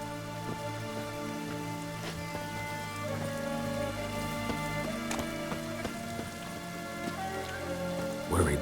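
Steady rain falls in The Witcher 3 video game, a constant patter of drops hitting surfaces over a sustained game soundscape with layered tonal ambience and occasional brief knocks.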